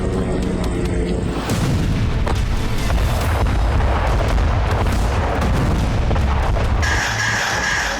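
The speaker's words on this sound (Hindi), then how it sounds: "ये गैलिली के बेथ हिलेल का वीडियो है, जहां रात के वक्त हिजबुल्लाह ने 50 से ज्यादा रॉकेट दागे" Rocket barrage fired by Hezbollah at night on Beit Hillel in the Galilee: dense, continuous booming and rumbling blasts roll through the whole stretch, with a steady high whine entering near the end.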